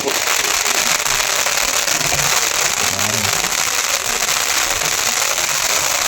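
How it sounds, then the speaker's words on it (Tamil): Fireworks and firecrackers crackle and burst continuously at a temple festival in Krishnagiri, a loud, dense, sustained roar of bursts filling the whole stretch. "அந்த அளவுக்கு பட்டாசு வந்து ரொம்ப வானவேடிக்கையாக பண்ணுவாங்க."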